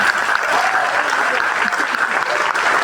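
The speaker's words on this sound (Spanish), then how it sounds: "Aplaudo fuerte porque es para Él." Loud, sustained applause from a large church congregation, dense steady clapping filling the whole stretch without a break.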